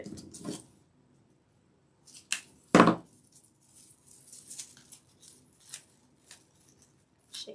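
Snips cutting greenery stems for a lemon grapevine wreath, one sharp close cut standing out among a few faint clipping and rustling sounds in a quiet room.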